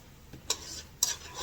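A spoon stirs sofrito sauce around a pan, making two short, soft scraping strokes about half a second apart over a quiet background. No one speaks.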